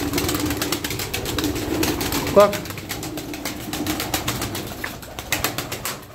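A pigeon in a loft gives soft, low coos under someone talking nearby, with scattered rustling and a brief sharp sound midway.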